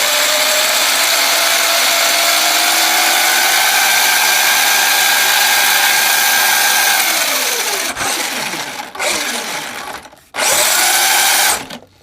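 Electric motor of a Subotech Tornado 1:12 scale RC truggy driving, a loud high-pitched whine that holds steady, then drops and cuts out in several abrupt stops and restarts.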